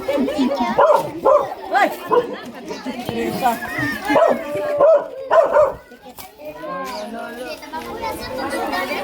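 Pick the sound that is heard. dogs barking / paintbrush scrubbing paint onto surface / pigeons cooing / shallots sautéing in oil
dogs barking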